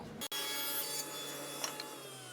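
A saw rips lengthwise through a bevelled wood strip, a steady, close, continuous cutting drone after a brief dropout at the start, with small scrapes near the end.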